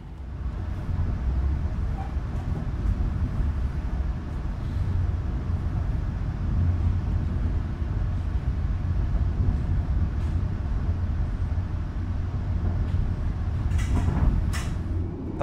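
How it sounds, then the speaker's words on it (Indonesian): A Pasundan economy-class train pulls out of Surabaya Gubeng station, heard from inside as a steady low rumble and rolling drone, with a few sharper knocks near the end. "kereta api Pasundan yang saya naiki diberangkatkan dari stasiun Surabaya Gubeng"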